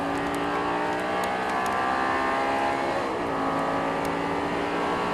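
An Audi R8 engine at Paul Ricard in Assetto Corsa holds a steady, droning note under throttle, its tone shifting slightly as revs rise and ease, loud and continuous throughout.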